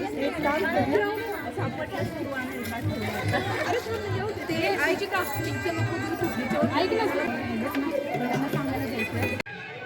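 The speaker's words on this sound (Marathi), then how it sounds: "छान सगळ्या बायकांचं हसणं खिदळणं गप्पा याच्यामुळं वातावरण एकदम प्रसन्न झालं" Women chatting and laughing together at a haldi-kunku gathering in a pandal, a dense, lively babble of overlapping voices and bursts of laughter filling the space continuously.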